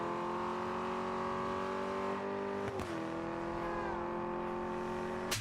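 Porsche Taycan driving in the racing game Test Drive Unlimited Solar Crown: a close, steady electric drive whine with layered tonal hum that dips briefly in pitch midway, heard alone without talk.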